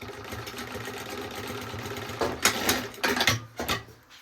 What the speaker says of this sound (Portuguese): E a gente vai costurar aqui na margem de 1 centímetro.